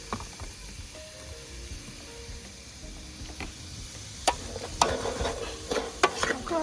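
Cabbage being stir-fried in a pan, a soft low sizzle with scraping and clinking utensil strokes that grow louder and more frequent toward the end, no talking.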